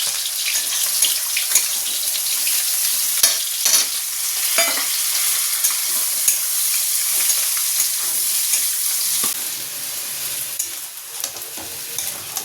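Malabar spinach stir-frying in a hot pan gives a steady, close sizzle with scraping stir sounds throughout and no voices.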